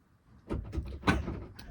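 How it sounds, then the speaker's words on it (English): An interior bedroom door handled at home, a few knocking and clicking bumps from the latch and door, close by in a quiet room, with no talking. "Lock this door, bro."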